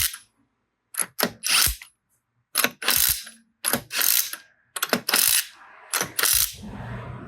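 Ratchet clicking in several quick bursts as a socket turns wheel nuts while a wheel is refitted on a 1994 Ford Probe, each burst of sharp pawl ticks separated by short pauses, close and loud, with no talking.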